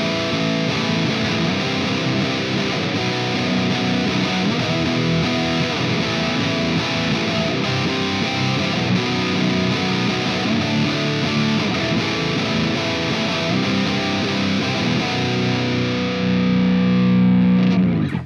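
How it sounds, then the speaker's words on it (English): Electric guitar played through a grungy low-gain amp preset of the ML Sound Lab Amped Icon, tuned to drop E: sustained, distorted chords ringing continuously and loud for about eighteen seconds, then cutting off abruptly. "this grungy low gain preset is a similar vibe to this, though it's a lot warmer and lends itself quite nicely to the bigger chords"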